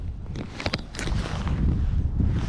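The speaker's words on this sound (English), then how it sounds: "that wind is real cold, honestly" Cold wind blowing outdoors on the water during spring dropshot fishing, a steady low rumble of wind noise buffeting the microphone throughout, with faint rustling and brief louder gusts early on.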